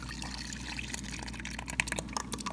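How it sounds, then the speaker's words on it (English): Sourdough leaven mixture poured into a bowl of pre-measured white and wheat flour, a quiet, steady liquid trickle with a few soft splashes and drips near the end, heard alone without talk. "I'm just pouring this leaven mixture in."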